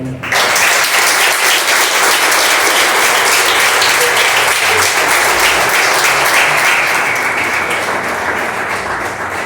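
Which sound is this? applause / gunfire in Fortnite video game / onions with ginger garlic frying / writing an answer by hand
applause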